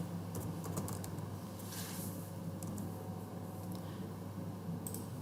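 A Linux command typed on a computer keyboard, a quick flurry of light key clicks in short clusters over a low steady background hum.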